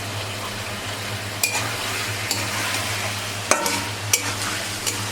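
Chicken cooks in a pan at home, a steady close sizzle with a spoon scraping and stirring now and then, sharp clinks breaking through the constant frying hiss.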